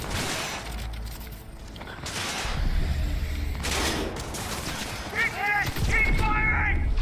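Bursts of gunfire in the video game Cyberpunk 2077 rattle along beneath game dialogue and mechanical clanks, fairly dense and moderately loud.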